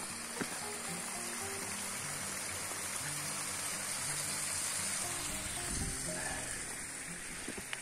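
Water runs and trickles along a mountain trail in the Lagorai range near Scurelle in Trentino, where patches of ice lie on the path, a steady close rushing wash with footsteps crunching through it.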